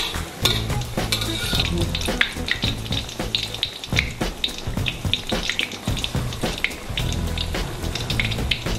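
A fu yung hai egg omelette fries in hot oil while oil is ladled over its top, giving a loud, continuous sizzle and crackle with splashing bursts as the ladle dips and pours.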